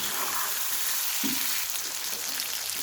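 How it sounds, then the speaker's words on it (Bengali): Stinging catfish (shing) pieces fry in hot oil in a pan, a steady close sizzle running throughout with a brief louder burst near the middle. "মাছগুলি এভাবে আমি 1 মিনিট কষিয়ে নেব।"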